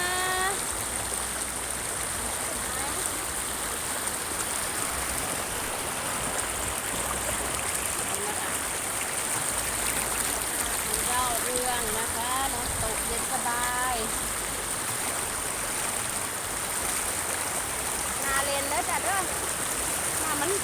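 Strong, steady rush of water pouring over a waterfall fills the whole stretch, loud and unbroken, with faint voices now and then under the roar.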